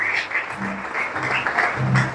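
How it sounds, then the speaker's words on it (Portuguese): A church congregation at an Easter service applauds Jesus, uneven clapping that swells and dips while voices sound faintly beneath it. "Você pode aplaudir Jesus?"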